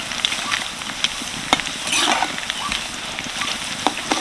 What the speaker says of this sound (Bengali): তেলটাকে ভালোভাবে নাড়াচাড়া করেই কিন্তু ভেজে নিতে হবে